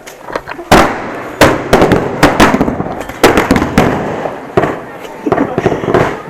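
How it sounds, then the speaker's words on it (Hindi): Firecrackers bursting at a home Diwali celebration: a string of loud, sharp, close cracks and pops in irregular clusters, with people talking and calling out between the bangs. "बिल्कुल पटाखे नहीं फोड़ने।"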